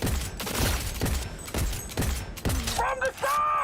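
Rapid bursts of gunfire in the video game Cyberpunk 2077 Phantom Liberty, repeated sharp shots roughly every half second, loud and close, with a player talking over them and electronic tones near the end.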